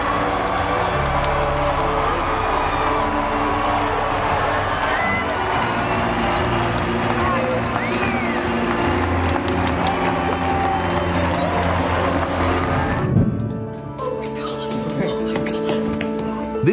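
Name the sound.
crowd cheering as a soldier proposes to his girlfriend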